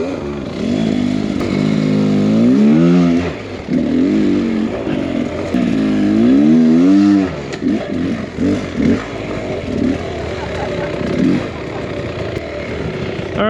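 A stock Beta Xtrainer 300 two-stroke dirt bike revs hard and repeatedly while riding rough off-road terrain, loud rising and falling engine wails with throttle blips, bursts and dips close to the rider.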